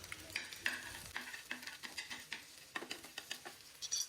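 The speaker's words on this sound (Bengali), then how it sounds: "আর এদিকে আমি ডিমটা ভেজে নিচ্ছি, এটা উপরে দিয়ে দিব।" An egg frying in a pan while pasta is cooked, giving a steady close sizzle broken by repeated light scraping and stirring taps, with no talk.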